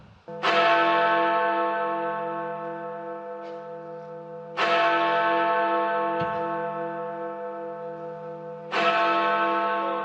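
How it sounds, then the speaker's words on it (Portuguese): A deep bell tolls three times, each strike ringing out and slowly fading before the next, with faint ticking in between. "Quando bate o sino, tem jeito do estúdio bater o sino aí?"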